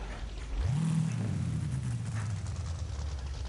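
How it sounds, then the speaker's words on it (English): A Corvette in the racing game Forza Horizon 5 revs up from a low rumble into a sustained engine and exhaust drone that holds steady, loud and close, with no voices over it. "This Corvette sounds so good."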